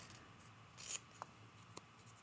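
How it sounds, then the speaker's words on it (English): Scissors snip through a small fabric piece for a mosaic art quilt, one quick burst of cutting followed by two faint, sharp clicks of the blades in a quiet room. "So I'm just going to cut that real quick."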